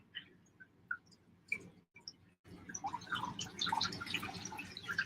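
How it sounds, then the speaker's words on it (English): Wet dyed yarn is wrung out by hand after dyeing, giving soft squelches and a run of water drips and trickles that grow busier toward the end, close and fairly quiet. "And now I can wring it out."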